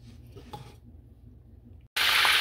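Beef pieces for nihari fry and get stirred in a pot: a soft scrape and clink under a low background hum, then a sudden loud, steady sizzle near the end.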